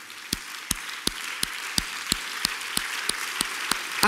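Church congregation at a Sunday service clapping together in a steady, even rhythm of about one clap every third of a second, moderately loud against a soft room background.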